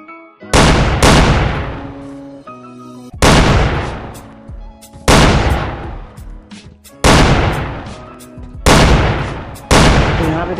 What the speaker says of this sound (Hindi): सबसे पहले तो मैं तुम लोग को गन की साउंड सुना देता हूँ।